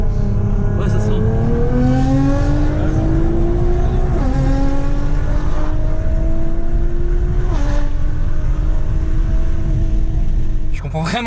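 Porsche 992 Carrera 4S accelerating hard, engine note climbing through several gears with brief dips at each shift, loud and close from inside the car, with people talking under the roar.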